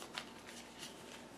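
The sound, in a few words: shuffling playing cards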